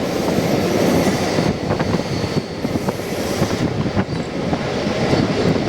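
A MEMU commuter train rolls across the Godavari road-cum-rail bridge, producing a steady, loud rumble and rattle of wheels and carriages with faint rhythmic clicks throughout.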